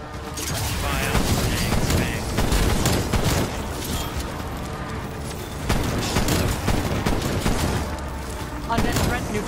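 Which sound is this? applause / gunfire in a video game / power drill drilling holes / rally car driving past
gunfire in a video game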